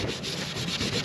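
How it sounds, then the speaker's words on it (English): A cloth rubs and wipes across a cloudy plastic solar light cover, a continuous close scrubbing hiss with slight rhythmic pulses. "And I'm going to wipe it off again."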